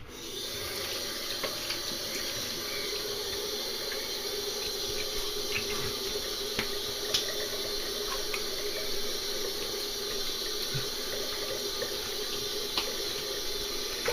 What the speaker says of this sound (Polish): Mogę spłukać twarz.